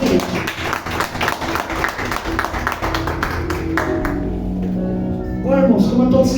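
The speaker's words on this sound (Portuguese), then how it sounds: "E as palmas para Jesus." A church congregation claps for Jesus during a Wednesday night worship service, a dense run of many hands that starts loud and close, then thins toward the end while music-like tones carry on underneath.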